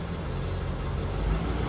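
A Ford F250 engine idles, a steady low rumble running unbroken and fairly near for under two seconds, with no talking.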